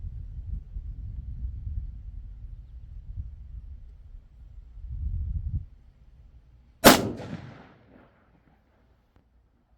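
A single sharp, loud rifle shot from an Aero Precision Solus during handload development cracks close by and rings off into a short decaying echo, preceded by low rumbling handling noise.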